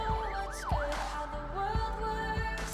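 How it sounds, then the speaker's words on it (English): A police siren in the video game Boyfriend Dungeon wails in quick rising and falling sweeps at first, then fades under dull thumping footsteps and a steady tone. "A siren sounds far too close for comfort."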